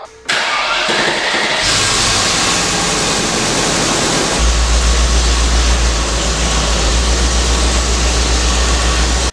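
A Land Rover engine that has sat unused for over a year cranks briefly, then fires and settles into a loud, steady running rumble close by, with no talking.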